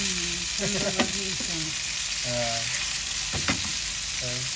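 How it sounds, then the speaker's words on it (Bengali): Onions frying in a pan with a steady, close sizzling hiss, joined by brief tonal sounds in the background. "পেঁয়াজ ভাজা হইতে আছে"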